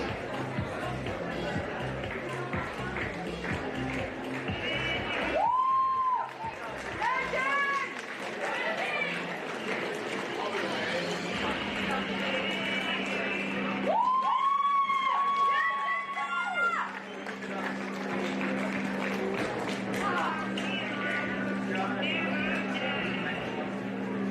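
Steady applause for the Fremantle City women's football team at a grand final medal presentation, continuous clapping and crowd chatter from a stadium, with whistle-like tones and voices over it at times.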